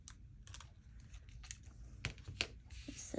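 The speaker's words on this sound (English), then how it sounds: "So I'll cut this one." Scissors snipping through paper for a junk journal spot bundle, several short crisp cuts with small rustles in between, close by in a quiet room with no talk.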